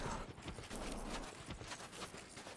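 Horse hooves clop in a muffled, busy rhythm amid a howling blizzard in the video game Dark Souls 2, faint and mixed with wind noise.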